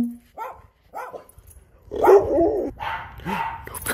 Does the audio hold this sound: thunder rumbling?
no